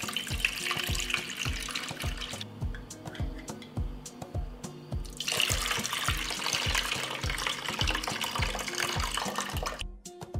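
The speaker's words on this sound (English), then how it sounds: "I will pour the liquid from the strainer into a pot." Liquid poured from a strainer into a pot, a steady rushing splash with rhythmic low thumps underneath, continuous and close throughout.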